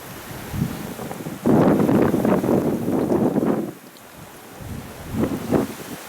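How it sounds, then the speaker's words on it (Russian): Strong wind batters the microphone in heavy, roaring gusts, the loudest burst lasting a couple of seconds, with shorter buffets before and after and quieter lulls between. "Ну ветер усилился"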